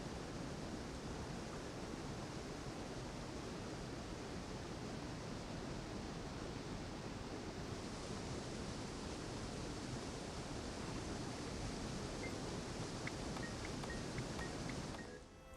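A steady, loud roar of falling water from a waterfall in the Guild Wars 2 video game, a broadband wash that continues unbroken and alone for about fifteen seconds, with a few faint tinkling in-game accents near the end.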